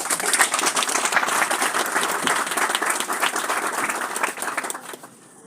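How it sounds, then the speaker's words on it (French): Conference audience applauding the first vice-president of the Collectivity of Saint-Martin, full steady clapping that tapers off near the end. "sous vos applaudissements, bien sûr"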